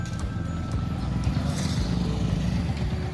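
A motorcycle ridden slowly and steadily in second gear during a beginner's riding lesson, producing a continuous, close, even engine rumble with no clear revving.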